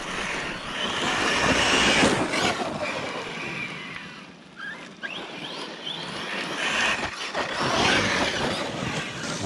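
A Team Corally Sketer RC car running sledgehammer tires tears over a gravel ramp outdoors, its electric motor whining and the tires crunching on gravel in a loud, continuous run with a brief dip midway.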